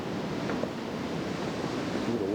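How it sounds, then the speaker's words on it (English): Water wells up out of the ground by a river's bedrock near Gatlinburg, Tennessee, heard as a steady rushing wash with wind buffeting the microphone, close and continuous, no talk. "See the water coming up out of the ground."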